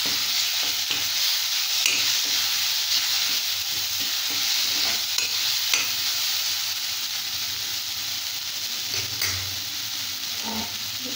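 Tomatoes with turmeric and chili powder sautéing in a pan for puffed rice upma, giving a steady close hiss of sizzling with scattered scraping stirs throughout, no voices.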